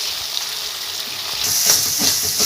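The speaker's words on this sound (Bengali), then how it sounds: "এটা দিয়ে ভালো করে মশলাটা কষিয়ে নেবো" Ginger paste and spices frying in oil for a rohu fish curry, a loud steady sizzle and hiss close up that swells stronger halfway through, with faint stirring underneath.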